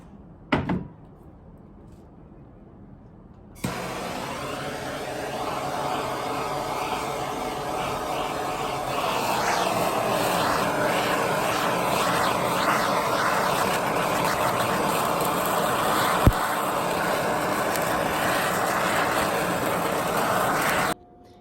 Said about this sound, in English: I'm gonna torch a little bit all over to also heat it up on the inside.